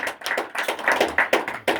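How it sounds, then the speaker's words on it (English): A small stand-up comedy crowd in a headshop basement claps for the comedian's assistant. Close, sparse hand claps land in an irregular patter of crisp individual slaps over a short burst. "Me and my lovely assistant here, Katrina Purdy. Give a round of applause."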